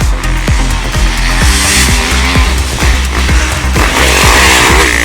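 Loud, close 2018 KTM 250 motocross bike engine revving hard on a dirt track, sustained high-pitched two-stroke-style roar with rapid throttle blips and gear changes throughout.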